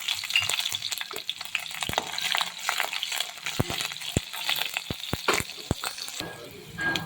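Mustard seeds, cumin, garlic slices and green chillies fry in hot oil for a methi zunka, a steady close sizzle crackling throughout with sharp pops and clicks scattered across it.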